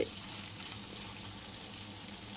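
Fish roe and fish fat frying in a pan, a quiet, even hiss and crackle of sizzling oil that holds steady throughout with no talking.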